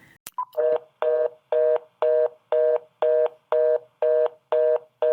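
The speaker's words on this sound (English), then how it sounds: "Fast busy signals on a phone line" A short click, then a telephone busy signal: a steady run of identical beeps repeating quickly at an even rhythm, clear and alone.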